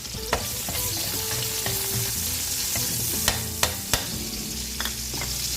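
Onion frying in rendered pork fat in a pan, a steady sizzle with a few sharp clicks of a utensil scraping and stirring, close and loud with no talking.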